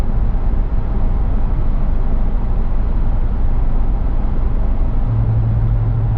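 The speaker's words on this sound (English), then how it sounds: "Very little road noise in this car." Steady, low road rumble fills the cabin of a Lexus GX 460 SUV while driving, a constant muffled hum with no voices.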